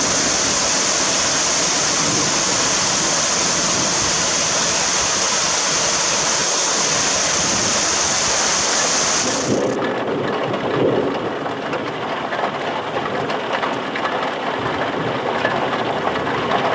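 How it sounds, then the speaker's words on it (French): Very heavy rain pours down in a thunderstorm at Sallanches, a loud, dense, unbroken roar. Partway through it becomes slightly duller and darker but keeps going at full strength. "ça pleut vraiment très fort"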